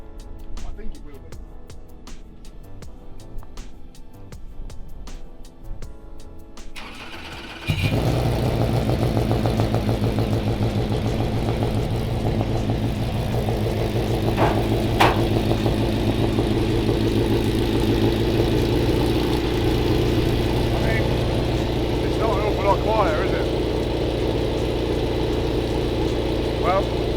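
A V8 race car engine in a MINI, fitted with a large silencer, fires up after a quieter start and settles into a loud, steady, throbbing idle that runs on continuously, with occasional voices in the background.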